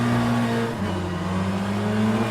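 Race car engine in the rFactor 2 racing game, a BTCC touring car at a race start, drones loud and close with a steady buzzing tone that dips and shifts briefly as it changes gear, no voices.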